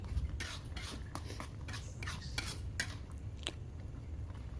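A utensil stirs boiling chicken cheese mochi batter in a metal pot after sugar is added, making a continuous close scraping and clinking in an irregular rhythm, with no talking.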